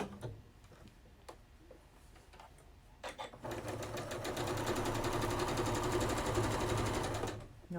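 A sewing machine stitches down a nine patch quilt block, starting after a few soft clicks and handling sounds, then running in a fast, even whir for several seconds before stopping.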